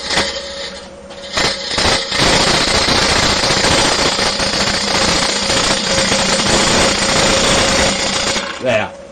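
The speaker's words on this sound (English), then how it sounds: "Now I lifted my handle higher that time to get a more aggressive cut to remove a bit of wood." Loud, continuous gouge cut into spinning wood on a lathe, a rough aggressive cut running steadily for about nine seconds with a strong rattling, chattering texture before tapering off at the end.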